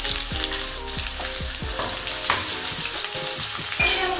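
A ginger, garlic and green chili paste sautés in a pan of oil with a loud, steady sizzle, punctuated by regular scraping strokes of a spatula stirring it.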